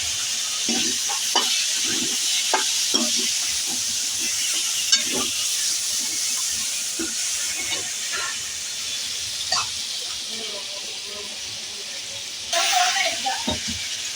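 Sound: spice tempering sizzling in oil

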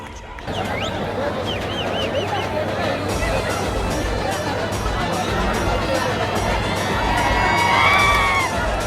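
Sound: crowd clapping and cheering

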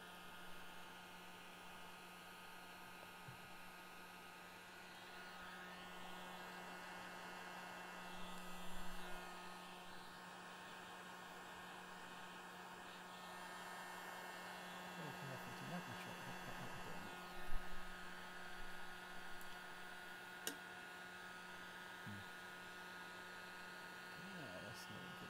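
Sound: heat gun melting parts on a workbench

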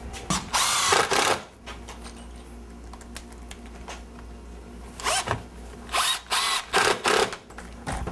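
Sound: driving screws with power drill

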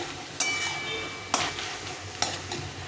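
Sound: stirring greens with potato and eggplant in a pan

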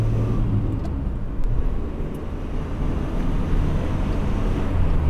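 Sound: small car engine revving through gears

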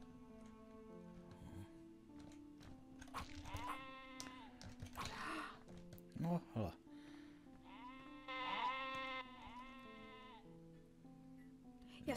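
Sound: sheep bleating in a video game

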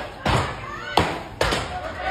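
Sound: axe chops by a lumberjack cutting wood

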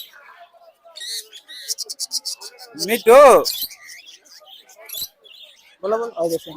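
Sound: parrot calling at a bird market

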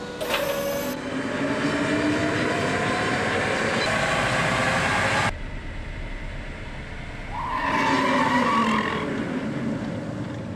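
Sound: Tata Nexon EV roll and brake test

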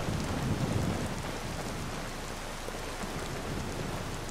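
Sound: rain in video game Skyrim

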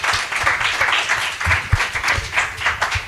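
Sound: audience applause after a talk

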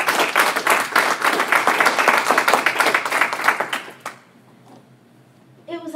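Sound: audience applause

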